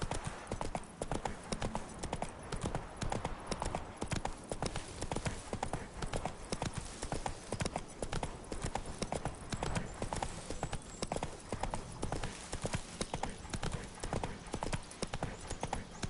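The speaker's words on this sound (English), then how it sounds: "Just me and my horse." Steady clip-clop of horse hooves trotting at an even rhythm in The Witcher 3: Wild Hunt video game, continuous throughout, close and moderately loud.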